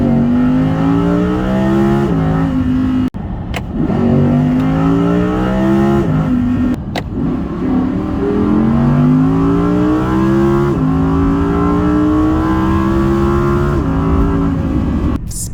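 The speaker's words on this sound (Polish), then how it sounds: "Tutaj klepiemy gaz i momentalnie w akompaniamencie V10 auto przyspiesza." An Audi R8 Coupe with a 5.2 V10 (570 Performance, rear-wheel drive) accelerates hard, its loud engine climbing through the revs with quick gear shifts, repeated several times close up.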